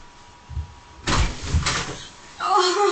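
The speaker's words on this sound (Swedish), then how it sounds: "Men kan hon öppna dörren?" An indoor door is opened with a loud clunk and rattle, followed by a second thump and a brief scrape, while voices murmur around it.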